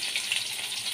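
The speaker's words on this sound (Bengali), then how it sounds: "ট্যাংরা মাছগুলোকে ভালো করে ধুয়ে নুন হলুদ মাখিয়ে এবার ভাজবো" Tangra fish rubbed with salt and turmeric fry in hot oil, giving a steady, close hiss and crackle of sizzling.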